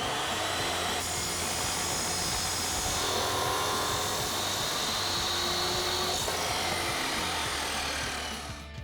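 A chop saw cuts through a steel exhaust pipe for a Ford F-250 MBRP single exhaust system, a loud sustained whine that holds steady for several seconds and winds down at the end.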